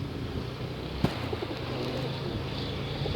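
A black bird coos in soft, pigeon-like calls near a balcony, faint against a steady low background hum, with one sharp knock partway through.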